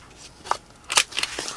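A small quarter-inch corner rounder punch trims paper corners with a few crisp, close clicks, one near the middle and two quicker ones after it, against a quiet room.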